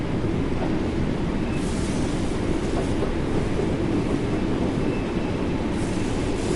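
A BR Class 484 train running on the Isle of Wight route in Train Sim World 3: a constant, loud rolling rumble and rail noise throughout, with no talking.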